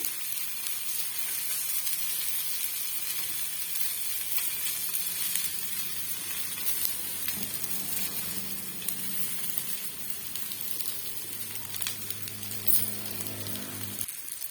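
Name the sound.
lemons roasting and sizzling on a dosa tava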